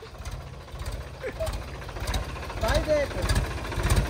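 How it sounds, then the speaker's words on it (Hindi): A tractor engine chugs steadily at low revs while reversing with a trolley attached, the rhythmic thumping running under a man's speech throughout. "मैं ट्रैक्टर को सीधा ले जा रहा हूँ तो ट्रॉली को सीधा"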